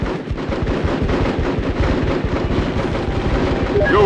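Sustained suppressing gunfire in a military shooter video game, a dense rapid rattle of shots that stays loud and steady throughout, with no voices over it.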